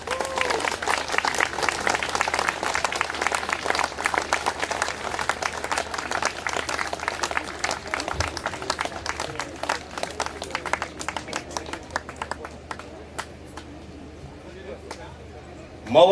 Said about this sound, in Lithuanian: Plojimais išlydėkime juos.